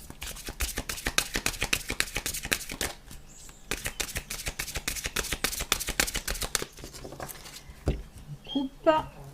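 A deck of oracle cards being shuffled and cut, giving a long run of rapid, loud riffling flutters that trail off into a few softer taps and slides near the end.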